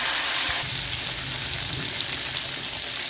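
Nigella seeds, bay leaf and green chillies fry in hot oil after fish, giving a steady close hissing sizzle with fine crackle throughout and no talk.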